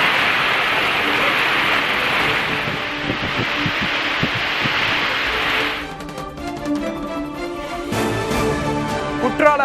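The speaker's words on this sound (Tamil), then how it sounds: "ஸ்ரீவில்லிபுத்தூர் சுற்றுவட்டார பகுதிகளிலும் பரவலாக பெய்த மழை" Heavy rain pours down in a dense, steady hiss that later thins into scattered drips and patter on nearby surfaces.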